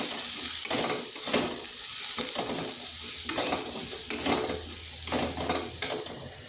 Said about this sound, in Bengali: আর দিচ্ছি সামান্য লঙ্কার গুঁড়ো। এই মশলার সাথে মিশিয়ে নিচ্ছি।